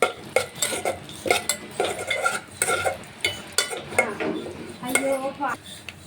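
Dry fruits frying in ghee in a metal pan, stirred with a spoon in repeated clinking scrapes against the pan over a soft sizzle, close and steady with no talk.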